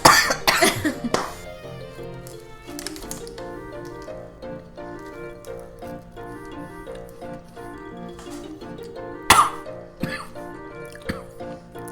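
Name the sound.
person coughing while tasting Finnish snacks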